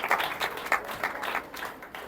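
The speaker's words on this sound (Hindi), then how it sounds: "जोरदार तालियां बजाओ अपने आप के लिए, सबों के लिए" Congregation clapping during a Palm Sunday sermon: a short burst of applause with uneven, rhythmic claps, fairly close and moderately loud, with no voices over it.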